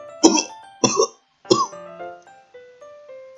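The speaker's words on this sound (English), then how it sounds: "And instantly start coughing" Coughing after biting into a cupcake: three sharp, close coughs in quick succession, the last one trailing into a faint tail, with background music underneath.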